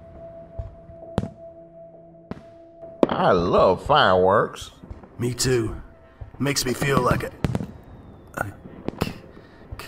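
City fireworks on Independence Day give a few sharp, distant pops and cracks, scattered and fairly faint, before voices start talking over further bangs.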